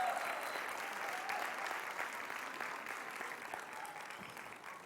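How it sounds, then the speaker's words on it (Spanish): A church congregation applauds a couple married the day before, a steady wash of clapping heard from some distance that gradually fades, fairly faint overall. "Un aplauso"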